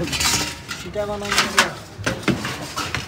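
Metal parts of a chicken momo steamer, with its upper and lower sections missing, clatter and clink as they are handled in an old ship's kitchen goods shop, several close knocks and scrapes mixed with a voice talking.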